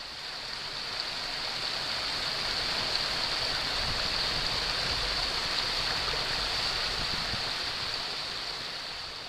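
A creek flows near Gibraltar Falls outside Canberra, a steady broadband rush of running water over rocks, continuous and even throughout with no voices.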